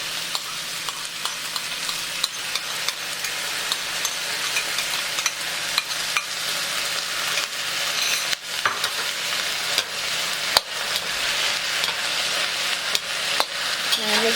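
Char kway teow noodles stir-fried with sauce over high heat, a continuous loud sizzle broken by frequent sharp clacks and scrapes of the spatula against the wok, with no talking.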